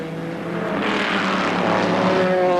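The Spyker race car number 80 roars past during the 2006 24 Hours of Spa endurance race, a loud engine note that builds and sustains with shifting pitch as it goes by.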